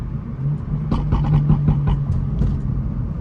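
A BMW N55 turbo engine fitted with Pure 500 turbos and a turbo-smart plumbing setup rumbles steadily, then gives a quick run of sharp exhaust pops and crackles, up close with no talking.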